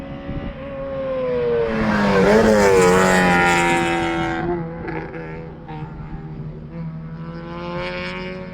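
A race car roars past at GingerMan Raceway as it finishes a lap, the engine note rising to a loud close peak and then falling away as it recedes, leaving a distant hum.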